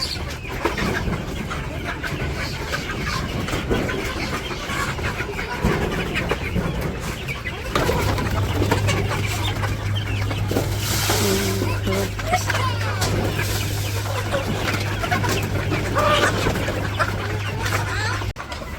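Chickens cluck and murmur close by over a busy background, with a voice talking at times and a low steady hum joining partway.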